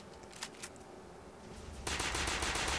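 Automatic gunfire from the Android shooter game Alien Resistance: a couple of short bursts early, then a loud, continuous stream of rapid shots in the final second, with no talk.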